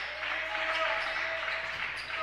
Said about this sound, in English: Crowd starting to get into it a little bit.